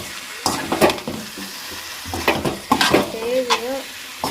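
Beef gravy is stirred and fried in a pan, with a continuous sizzle broken by several loud scraping, clattering strokes of the spoon against the pan, and a brief whistling tone near the end.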